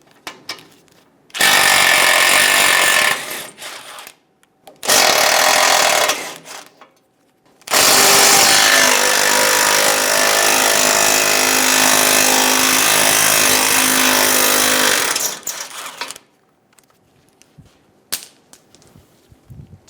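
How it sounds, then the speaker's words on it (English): Three long, loud, rattling bursts of a power tool spinning a 14mm socket to remove nuts from the impact absorber of a 2005-2015 Toyota Tacoma bumper, with quiet gaps between bursts and softer clatter at the end. "Using a 14mm socket, remove the 3 nuts for the impact absorber."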